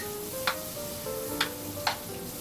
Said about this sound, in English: we're sauteing the mushrooms